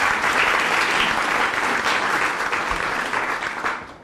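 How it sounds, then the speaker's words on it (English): A large audience applauds steadily for the organizers at a United Nations International Women's Day event, a dense, even wash of clapping that holds for about four seconds and then begins to thin out. "How about a big round of applause for the organizers of this event?"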